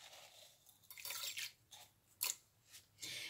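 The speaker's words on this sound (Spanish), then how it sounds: "Le voy a poner sal gruesa." Coarse sea salt sprinkled onto raw pork being seasoned for Cuban fried pork chunks, a few faint, soft gritty patters and crunches in short bursts against near silence.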